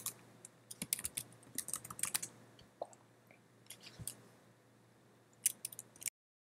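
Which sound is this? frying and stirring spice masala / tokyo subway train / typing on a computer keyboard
typing on a computer keyboard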